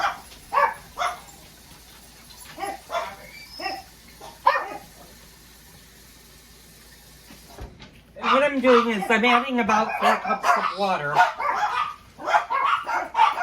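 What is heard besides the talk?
dogs barking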